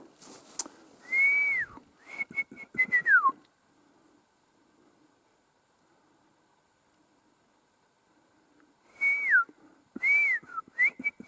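Thin, high whistled calls of a hazel grouse, a few short sliding notes in quick succession, then a long quiet gap before more whistles return; clear and fairly close, by a taiga river.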